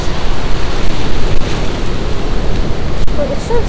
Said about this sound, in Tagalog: It's getting high tide. Laki ng mga waves. Galit na galit ang mga waves.